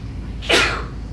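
A single sharp human sneeze during a quiet sound healing session, one loud close burst lasting about half a second against a faint background hush.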